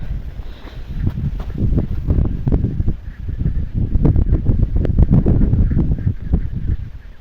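Wind buffets the microphone in a vegetable garden as it shakes the dill plants, a rough, gusty rumble rising and falling in uneven bursts over about seven seconds, with no talking.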